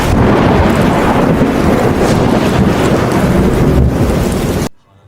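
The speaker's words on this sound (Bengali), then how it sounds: "হারান মাসালার মাথার উপরে বিকট শব্দে একটা বাজ পড়ল।" A thunderclap from a storm strikes over a boatman on the water, a loud rumbling, crashing roar that rolls on for several seconds with windy noise before cutting abruptly to silence.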